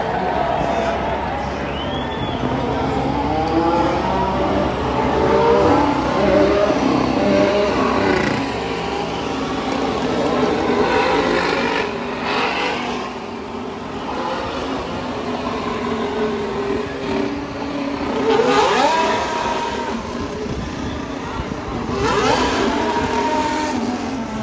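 Formula 1 race cars passing on a circuit during a race, heard from the spectator area as repeated rising and falling engine whines that sweep by, with crowd noise and nearby voices mixed in.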